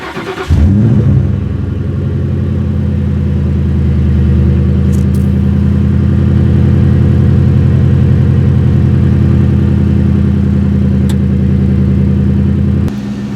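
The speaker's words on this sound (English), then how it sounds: "the car sounds great. It's not a super aggressive tone, but a nice burly note with a little bit of rumble" A car engine with chrome exhaust pipes fires up and runs loud and close with a deep, steady burbling rumble, holding a constant idle before cutting off near the end.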